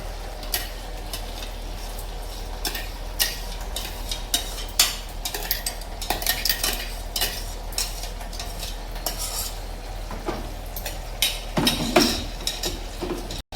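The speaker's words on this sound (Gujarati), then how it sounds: "હવે આપણે એમાં પાલક હવે આપણે ગ્રેવીમાં નાખી દીધું છે અને હવે આપણે એને થોડું હલાવી લઈશું કમ્પ્લીટ મિક્સ કરી દઈશું" A spoon scrapes and clinks against a pan as ground spinach is stirred into simmering gravy for palak paneer, with steady mixing strokes and a soft bubbling sizzle in a quiet kitchen.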